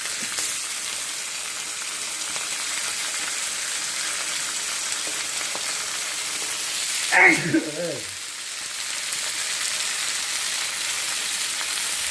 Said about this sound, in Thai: พอเลี้ยงได้ที่แล้วครับก็ใส่เนื้อลงไปครับ เนื้อเยอะ ๆเราผัดเยอะ